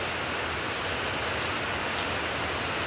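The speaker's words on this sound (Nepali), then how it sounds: "पानी परेको अवस्था हेर्न सक्नुहुन्छ।" Rain falls on a Sunday afternoon in Birpara, West Bengal, India, producing an unbroken, uniform wash of patter that stays close and steady from start to finish, with no talking.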